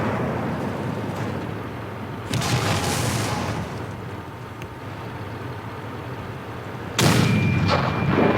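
Tank cannon shots in a tank video game: two heavy booming blasts a few seconds apart over a constant rumbling engine bed, with no talk.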